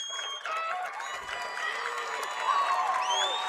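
Crowd at a high school state wrestling championship finals cheering and whooping in a large arena, sustained roar with scattered applause and shouts, moderately distant.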